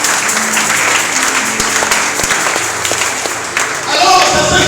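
A congregation at a church deliverance service claps loudly and fills the room with dense, sustained applause. Near the end a voice rises over the clapping.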